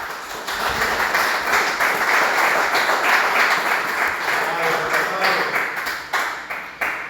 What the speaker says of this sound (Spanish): Pues denle un aplauso a Él, porque Él vive y reina.